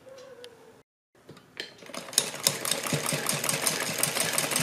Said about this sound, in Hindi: ये पूरे गले के ऊपर इसी तरह से हमें सिलाई लगानी है।